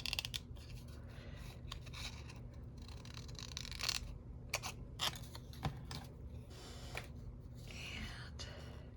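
Scissors snip through paper in repeated short, crisp cuts with light rustling and scratching between them, close and quiet, while someone speaks softly at times.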